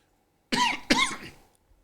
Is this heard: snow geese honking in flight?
no